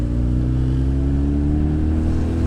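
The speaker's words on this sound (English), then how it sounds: "My exhaust is a little bit noisy, I must admit." A motorbike with a noisy aftermarket exhaust idles steadily in Seoul, giving a loud, constant low rumble with a throbbing, uneven beat and no break.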